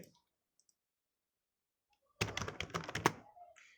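Close, quiet clatter of a computer keyboard as text is typed into Photoshop, a quick burst of rapid key clicks lasting about a second and a half after a long silence.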